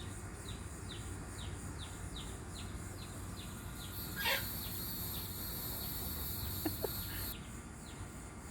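Hens in a laying hen house cluck and chirp in a quick repeating series, moderately near over a steady background hum, with a brief louder call midway and no talking.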